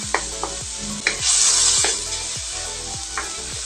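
Tomatoes sizzle steadily in a hot pan while being sautéed for a bagoong dish, with repeated close utensil scrapes and taps against the pan and a brief louder hiss burst partway through.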